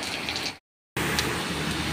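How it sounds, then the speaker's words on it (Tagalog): Steady heavy rain in Jeddah hisses, broken by a brief total silence, then continues at the same even level. "Umuulan pa rin."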